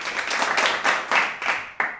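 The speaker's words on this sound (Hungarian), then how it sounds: "jár érte a taps" A short burst of applause, several quick rhythmic claps close by, fading out after about two seconds.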